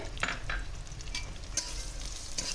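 Gobindobhog rice being lightly fried and stirred in a pan, a soft steady sizzle with scattered scraping strokes of the spoon, fairly quiet and close, with no talking.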